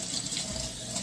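Kitchen tap running while hands are washed: a steady, close hiss of flowing water filling the moment evenly, with no talk.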